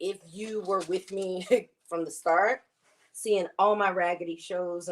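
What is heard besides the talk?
None of the usual background noises is heard.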